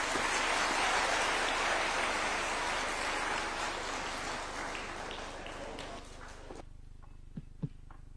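A crowd's applause after a speech by Kenya's President Ruto on Katiba Day, loud and dense at first, gradually thinning and fading out to a few scattered claps.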